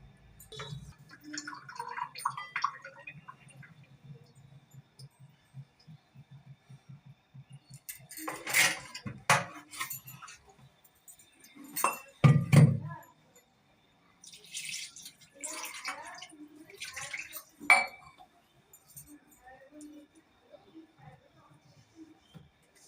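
Sesame seeds washed by hand in water, with soft dripping and light rattling splashes, a few louder sloshing bursts, and a voice talking in places.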